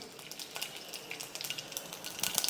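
Mustard seeds and dried red chillies fry in hot oil for a Tamil coconut milk rasam, sizzling and crackling steadily up close with sharp pops that grow denser near the end.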